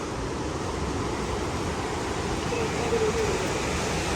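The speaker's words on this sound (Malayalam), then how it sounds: "കടൽ തീരത്തോടെ നടന്നു പോവാം." Sea waves wash onto the shore at Ross Island in the Andaman Islands, making a steady, broadband rushing roar with no clear breaks.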